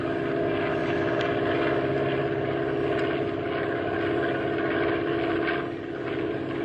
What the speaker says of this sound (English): And there goes the plane, with Richard at the controls.